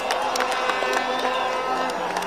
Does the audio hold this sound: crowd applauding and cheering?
yes